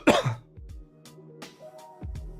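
One person clears a congested throat with a harsh rasp, followed by a few softer throat sounds and a second shorter clearing, close and fairly loud, with no talking.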